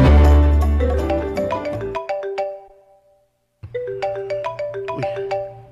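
A cellphone ringtone plays loud and close, a bright melodic tune that breaks off briefly and then starts over, with no talk over it.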